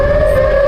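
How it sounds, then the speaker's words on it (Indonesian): A loud, sustained siren wail holding one steady, eerie tone with faint harmonics above it, droning on without a break. "Kamu pernah dengar suara sirine aneh kayak gini nggak?"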